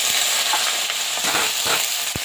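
Cut potato and eggplant fry in hot oil in a pan, a bright continuous sizzle with a few soft stirring knocks, close and alone.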